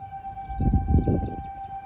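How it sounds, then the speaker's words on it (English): A steady, sustained tornado siren tone during a monthly test holds throughout, with a low rumbling burst of handling or wind noise partway through. "that once a month tornado sirens, just like the test alarm."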